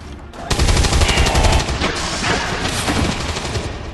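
A soldier in the video game XCOM 2 opens fire with a loud, rapid burst of automatic gunshots that rattles on for several seconds with a booming low end.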